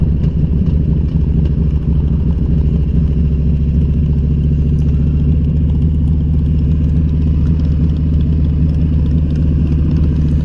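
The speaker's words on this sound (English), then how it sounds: "right now it'll high idle" Motorcycle engine holds a steady high idle close by, a loud, constant, rapid low-pitched throb with faint mechanical clatter and no change in speed throughout; no talking.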